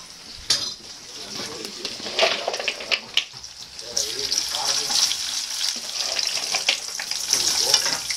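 Potatoes fry in a pan with steady crackling sizzle, punctuated by clinks of utensils against cookware, while people talk nearby.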